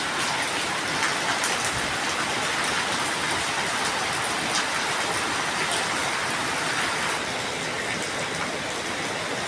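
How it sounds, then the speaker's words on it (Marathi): Heavy rain pours down steadily over a courtyard beside a flooded stream, a dense, constant hiss and roar that stays loud and even throughout with no voices. "किती मुसळधार पाऊस पडतोय, बाप रे, एकदम जोराचा."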